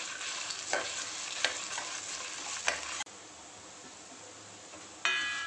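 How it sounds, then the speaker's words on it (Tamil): Horse gram, toor dal, spices and dried red chillies dry roasting in a pan, with a soft steady frying hiss broken by a few sharp scraping stirs, then quieter roasting and a final louder scrape. "இப்போது வரமிளகாவை சேர்த்து வறுத்துக்கலாம்."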